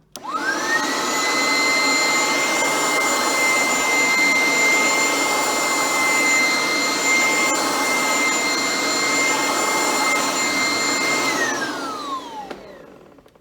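An Oreck-style upright vacuum cleaner, likely needing a new belt, whines up to a steady, loud high-pitched drone with a strong tonal hum, runs for about ten seconds, then winds down as it switches off.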